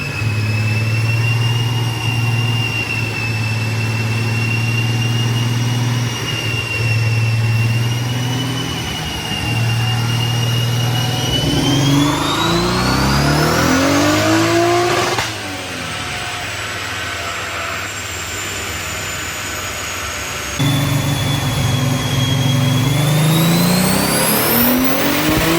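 Nissan 300ZX Z31 engine with cast aluminum pistons revving on a dyno, a loud sustained whine climbing in pitch through the pull, then a sharp cut and drop back to a steady idle, no voices.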